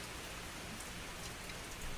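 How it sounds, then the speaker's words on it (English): Steady rain patters on an awning in a dense, even hiss that continues unbroken throughout, with no voices. "And the rain stopped."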